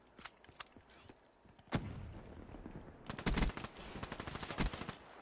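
Video game gunfire in Call of Duty: rapid automatic bursts and single shots, crisp and punchy, scattered early then dense rattling volleys in the second half, fairly quiet overall.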